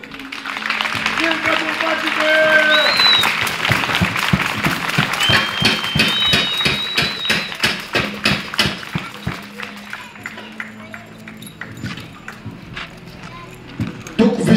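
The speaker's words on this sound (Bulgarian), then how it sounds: "Моля за овации!" An audience at a Roman reenactment show gives a long burst of clapping that gradually thins out. A shout of cheering and a whistle come near the start, and speech is heard over it.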